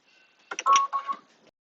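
Embroidery machine stitching a row through quilted fabric for an in-the-hoop A5 notebook cover, a short mechanical burst of whirring and clicking at close range, with no talk over it.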